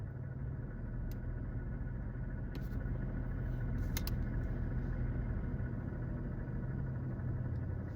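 A lowrider car's engine gives a steady, deep rumble that holds unbroken throughout, with a few faint higher clicks over the low drone and no one speaking.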